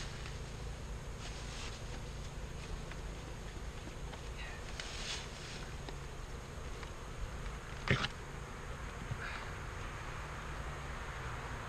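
Faint continuous buzzing of many honey bees over a steady hiss, with an occasional soft knock, no talking.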